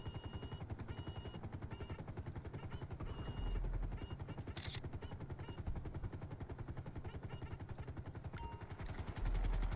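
Steady rhythmic rotor chopping of a helicopter, fairly loud and continuous, with a mechanical game-like quality and a few sharp clatters.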